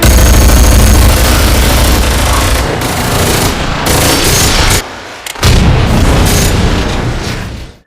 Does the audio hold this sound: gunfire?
yes